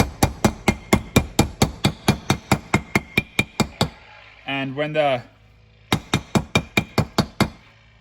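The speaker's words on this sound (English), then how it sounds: "when the sound changes to a more like tinny kind of hammer sound, you know it's seated" Rapid metallic hammer taps in a steady rhythm, seating a transmission tailshaft seal on a 1992 Crown Victoria, pausing briefly while someone speaks, then resuming with more quick, ringing strikes.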